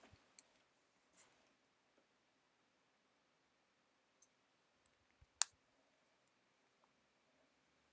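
Computer mouse clicks during a Stellaris strategy game: sparse, quiet, close-up clicks scattered irregularly over several seconds, one sharper and louder than the rest, over a faint background hiss.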